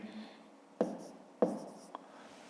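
A pen writes a math answer on paper in a quiet room: two firm, scratchy strokes followed by a lighter tap, close and faint.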